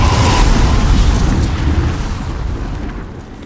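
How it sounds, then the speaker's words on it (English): A dragon's fiery breath roars in Demon's Souls, a loud, dense, continuous rushing blast that gradually fades over a few seconds, with no voices over it. "Alright, Dragon Man, set everything on fire."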